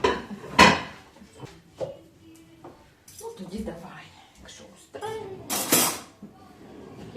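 Dishes being washed in a home kitchen, with scattered clinks and clatters of pots, plates and cutlery in irregular bursts, one louder crash near the start and another later, while people talk throughout.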